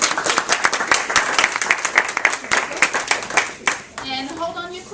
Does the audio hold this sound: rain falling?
no